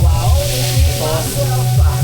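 Steady sizzling of salmon frying in a hot pan, loud and close, with a low hum underneath and no talking.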